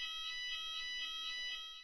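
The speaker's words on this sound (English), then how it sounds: "the fire alarm has only 1 sound, a continuous evacuation alarm." The continuous evacuation fire alarm of the MC6 building sounds steadily with a high tonal ring pulsing evenly about four times a second, heard at a moderate distance with no voices.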